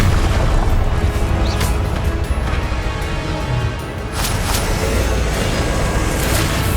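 The Expelliarmus spell cast in Hogwarts Legacy, a loud booming blast with crackling bursts inside a dense, roaring wash of game sound.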